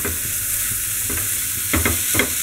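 A spoon stirs vegetable momo filling in a pan, producing soft scraping and light sizzling with a few louder scrapes toward the end, and no one speaking.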